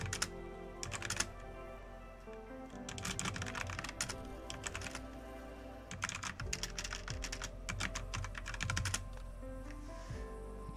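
Rapid close typing on a computer keyboard, fast clusters of key clicks with brief pauses, steady over a low background hum, no voice.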